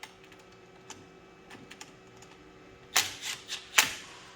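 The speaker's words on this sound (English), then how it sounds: "to tighten it up, you just tighten the 4 bolts" Short, sharp metallic clicks and two louder bursts near the end as a wrench tightens the four bolts of a Garmin Panoptix transducer mount; faint ticking before that.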